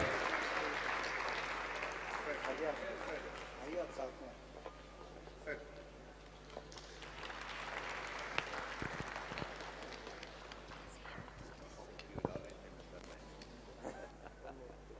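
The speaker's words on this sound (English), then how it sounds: "can we have a huge round of applause for Shri Anurag Thakur and Shri Vivek Mallya" An audience at a literature festival in Mangaluru breaks into sustained applause, dense clapping that swells and thins over several seconds, heard from within the hall.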